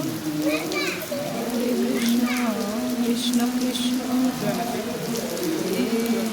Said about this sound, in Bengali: তা দেখুন বৃষ্টিও শুরু হয়ে গেল